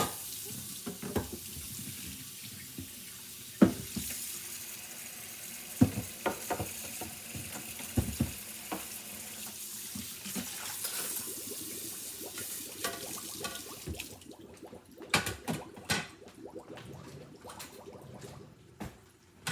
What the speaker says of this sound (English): So let me clean up my board and my dishes and then I'll cut these open.